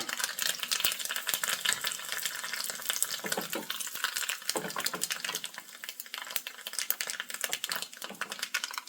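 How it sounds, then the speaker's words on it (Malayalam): Mustard seeds, three dried chillies and curry leaves splutter in hot oil in a pan on the stove, a quiet, dense run of rapid crackles and pops for a cucumber kichadi tempering. "ഒരു ചട്ടി അടുപ്പിൽ വെച്ച് ഓയിൽ ഒഴിച്ച് കൊടുത്തിട്ടുണ്ട് ഇനി അതിലേക്ക് കടുക് ഇട്ട് കൊടുക്കുകയാണ് മൂന്ന് വറ്റൽമുളക് കറിവേപ്പില"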